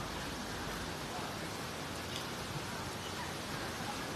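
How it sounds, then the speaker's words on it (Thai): Heavy rain pours steadily onto an outdoor kitchen in Nan, a dense, even hiss with no breaks, fairly faint and without talk. "ตอนนี้โรงครัวชุ่มฉ่ำไปด้วยฝนนะคะ"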